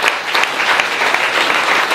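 A church congregation in Martinique breaks into loud, sustained applause, dense and even throughout, ending abruptly.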